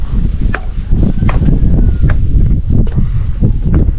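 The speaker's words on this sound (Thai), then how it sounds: "ลมพัดโกกเย็นเลยครับ" Cold morning wind blows across a house rooftop at a mountain resort at Phu Thap Boek, a loud continuous rumbling gust with buffeting on the microphone and a few faint clicks and knocks.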